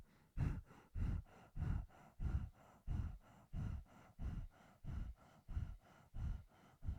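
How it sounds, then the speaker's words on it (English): Rapid, forceful Bhastrika yoga breaths during a guided meditation, about fifteen loud, evenly paced bursts of air pumping in and out over seven seconds, close and with no talking. "And now we introduce Bhastrika breathing."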